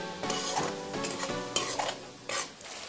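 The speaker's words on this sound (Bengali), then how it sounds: "মিডিয়াম ফ্লেমে রেখে মশলাটাকে আলুর সাথে কষিয়ে নিচ্ছি।" Potatoes and spices are stirred and fried in a pan over medium flame, with continuous close scraping and clattering of the spatula over a steady sizzle and no talk.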